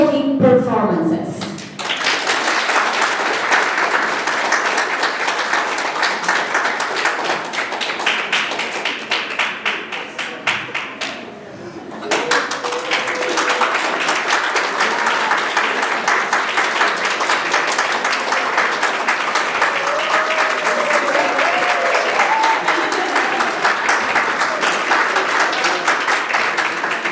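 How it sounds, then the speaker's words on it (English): A concert hall audience applauds a pianist at a symphony concert, with dense, steady clapping that fills nearly the whole stretch. It dips briefly midway, then swells again and stays loud to the end. "Please join me in extending our heartfelt applause to the pianist for the breathtaking performances."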